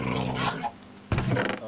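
A tamed dog in Minecraft growls in two close, loud bursts separated by a short pause.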